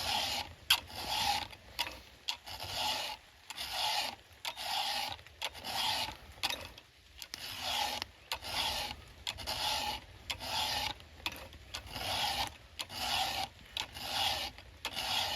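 A chainsaw chain is sharpened by hand with a file, close-up rhythmic rasping strokes, about a dozen evenly paced scrapes separated by brief pauses, with no talking.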